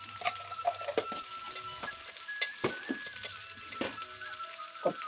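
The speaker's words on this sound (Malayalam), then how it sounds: "വെളിച്ചെണ്ണ വെച്ചിട്ട് കുറച്ച് ഉലുവ ഇട്ട് കൊടുക്കുന്നുണ്ട്." Fenugreek seeds crackle and sizzle in hot coconut oil in a home kitchen, a quiet close frying hiss punctuated by irregular pops, clinks and stirring scrapes.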